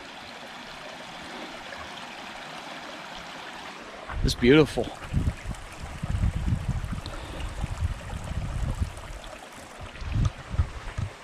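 Running stream at a water source beside a Virginia hiking trail, a steady broadband rush of flowing water throughout, with a person speaking briefly over it and some closer splashing and handling sounds in the second half.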